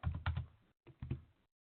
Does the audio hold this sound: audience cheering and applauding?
no